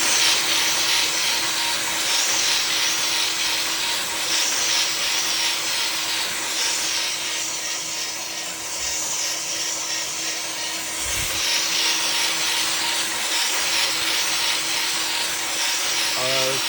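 3D printer with a Tricorn hotend and 8-tooth CNC Sherpa extruder running a high-speed flow test, a steady broadband mechanical whir with a constant tone throughout, close and loud, with no talking.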